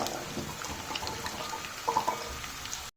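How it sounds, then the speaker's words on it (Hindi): Chopped pumpkin sizzling and crackling in hot ghee in a pan over medium flame, a dense steady frying hiss with a few brief pops, close by. "तो घी में हम सारा कद्दू डाल देंगे। फ्लेम बिल्कुल मीडियम रखेंगे।"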